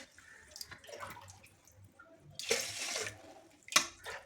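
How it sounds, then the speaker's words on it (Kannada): Water poured into washed rice and lentils for khara pongal makes a short, splashy gush midway, framed by light clinks and drips from the pot, with no one talking. "ಇದಕ್ಕೆ ನೀರು ಹಾಕೋತಾ ಇದ್ದೀನಿ."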